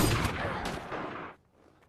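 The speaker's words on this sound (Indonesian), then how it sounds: "tes hentakan pelor ke dada" A single loud gunshot strikes a bulletproof vest in a film scene from Kick-Ass, a sharp burst with a dense noisy tail that cuts off abruptly after about a second and a half, leaving quiet.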